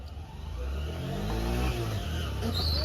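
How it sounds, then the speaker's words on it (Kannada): A vehicle passing by on the road, its engine rising to a close, loud rumble with shifting pitch as it approaches and passes. "ಒಂದು ಗಾಡಿ ಹೋಯ್ತ್ರಿ"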